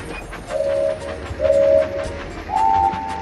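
A Lego Duplo toy train rolls along its track in a kids' game, a steady rumble broken by three short, bright whistle toots at even intervals, loud and close with no talking.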